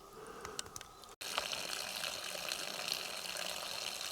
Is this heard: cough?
no